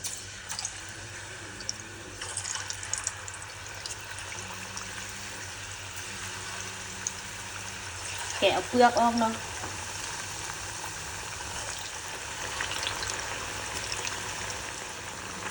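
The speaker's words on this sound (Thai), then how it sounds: "น้ำมันร้อนแล้วเราก็ลงไปเลย ลงไปทอดเลยทุกคน" Ripe bananas drop into a pot of hot oil and deep-fry with a faint, steady sizzle, broken by brief stirring clatter and a louder splash partway through. A person speaks quietly over it.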